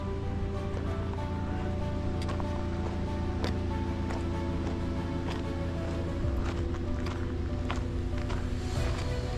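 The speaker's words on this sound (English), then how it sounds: "There's Springer Creek down there, you can hear it." Springer Creek rushes steadily below a forest trail, a constant broadband wash of flowing water heard from a distance with no break.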